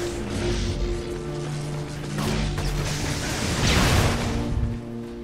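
A grenade blast in the game inFamous, a broad rumbling burst that swells around the middle and fades, set over a continuous mechanical whir and game background noise, with no talk.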